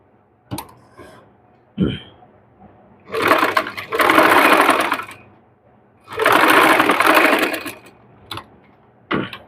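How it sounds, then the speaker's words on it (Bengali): Sewing machine stitching a second seam over the first on a fabric sleeve, two sustained runs of rapid needle chatter with brief starts and stops between, close and loud, no talk over it. "এই সেলাইয়ের উপর দিয়ে আবার আরেকটি সেলাই দিয়ে নিব"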